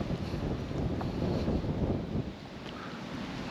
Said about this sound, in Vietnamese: Gió nó bay.